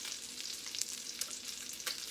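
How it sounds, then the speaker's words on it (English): Salmon sears skin side down in a hot cast iron skillet, giving a steady, close hiss of sizzling oil with small crackling pops throughout and no voices. "I lay my skin side down first so that it can sear at the back."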